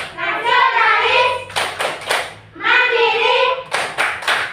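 Tepuk PPK clapping routine in an Indonesian classroom, with a class chanting in unison and punctuating each phrase with a crisp trio of loud, tightly synchronized claps, repeated twice in a steady rhythm.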